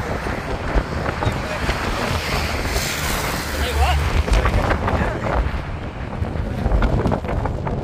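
Strong wind roars steadily into the microphone on a fishing outing, buffeting it continuously, with faint voices and distant water noise underneath.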